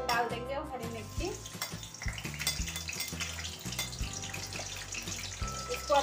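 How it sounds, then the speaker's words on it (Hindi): Garlic and green chilies sizzle in hot oil for a tempering, a steady frying crackle with clinks and stirring sounds of a utensil in the pan. "अभी तेल गर्म हो गया है, हम इसमें लहसुन डाल देंगे और हरी मिर्ची।"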